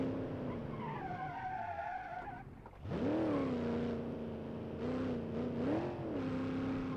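A video game car with a four-speed gearbox drives hard, its engine tone rising and falling through the gears while loud tire squeals and skids sound up close, with no talking.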